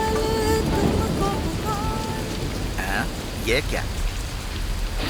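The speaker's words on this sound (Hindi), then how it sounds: "ये बारिश भी ना रोज रोज बढ़ते ही जा रही है" Heavy rain pours steadily, a loud broadband wash filling the scene, with music tones early and a brief spoken phrase partway through.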